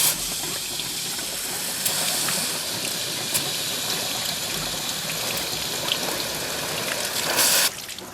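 Water is flushed through a car heater core hose to clear a blockage, a steady rushing trickle that runs continuously at moderate level before cutting off abruptly near the end.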